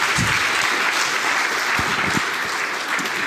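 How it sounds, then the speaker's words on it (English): A conference audience at a networking event claps steadily to welcome a speaker to the stage, a dense sustained wash of applause at moderate loudness with a few low thumps underneath. "Give him a big round of applause."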